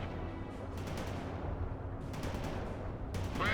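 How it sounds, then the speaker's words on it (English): Suppressing gunfire crackles in World in Conflict as scattered bursts of battlefield shots over a low rumbling background, moderately loud, with sharper cracks near the start, middle and end. "Laying down suppressing fire."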